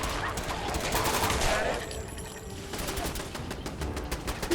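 Gunfire from a companion fighting alongside the player in the video game Fallout 4, a rapid run of shots through a noisy firefight, with a dog-like whimper also in the mix.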